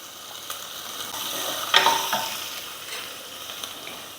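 Crushed ginger and garlic fry in a pan with a steady close sizzle, rising to a louder hiss and scrape when stirred partway through, with no voices.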